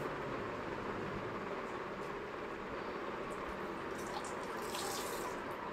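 Water rushes steadily out of a washing machine that had been left full, a continuous close gushing and splashing with no talk.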